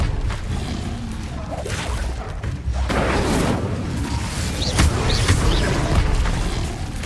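A fire spell in the Hogwarts Legacy game goes off as a loud, roaring whoosh of flame that swells about midway and keeps rumbling, with a few sharp bursts over a dense, continuous blaze.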